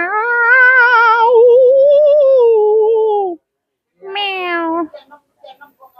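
A cat meows loudly in a long drawn-out call, then pauses and gives a second shorter meow, close by with no talking.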